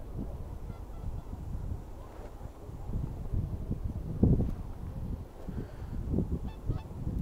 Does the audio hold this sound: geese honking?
yes